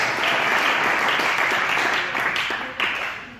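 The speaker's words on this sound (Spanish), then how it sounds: "Denle un aplauso fuerte al Señor." Church congregation applauding during a Spanish-language sermon, a dense, loud roar of clapping that holds steady and then tapers off near the end.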